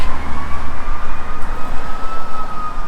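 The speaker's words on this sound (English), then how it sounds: "And we have sirens, so let's keep going." An emergency vehicle siren wails steadily in the distance over a low, constant traffic rumble in FishHawk Ranch, Tampa, Florida, its tone holding fairly level throughout.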